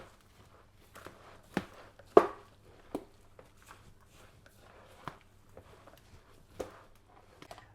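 Garlic being minced in a grinder, heard as a series of sharp, separate crunching and clacking hits spaced irregularly over a low steady hum, fairly close and moderately loud.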